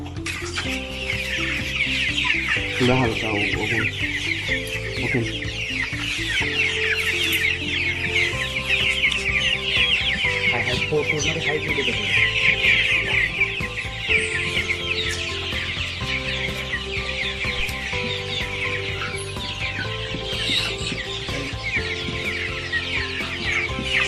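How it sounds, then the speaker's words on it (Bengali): Inside a poultry shed, a crowd of Tiger breed commercial chickens keeps up dense, continuous clucking and chirping at close range, and a voice briefly calls out once. "এই হচ্ছে আমার চাহিদার মুরগি"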